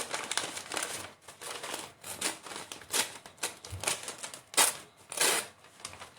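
Paper torn by hand into thin strips for a mixed-media lamp, a series of short close rips and crinkles in uneven bursts, with no talking.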